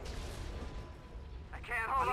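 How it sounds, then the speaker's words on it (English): A velocity cannon fires in a Star Wars space strategy game, a deep rumbling boom rolling under dense battle noise, with a sharper blast swelling near the end. "Velocity cannon firing."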